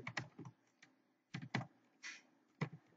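Short bursts of typing on a computer keyboard, a few quick clustered keystrokes separated by pauses, quiet and close in an otherwise silent room.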